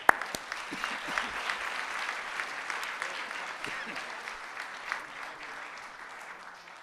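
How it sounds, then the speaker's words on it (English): An award ceremony audience at a community awards breakfast gives a sustained round of applause for a winner, steady clapping that slowly fades toward the end. "One more round of applause."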